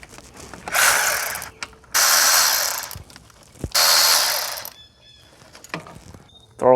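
A ratchet wrench loosens 10mm throttle cable nuts on a Honda Accord in three loud, close bursts of rapid clicking separated by short pauses, with a few small knocks between them.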